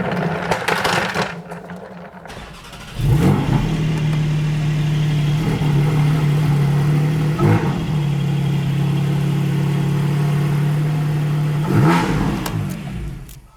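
A Porsche 718 GT4 engine idles at close range with a steady, deep hum as the car is pulled forward, broken by three short throttle blips spaced a few seconds apart, after a brief quieter stretch at the start.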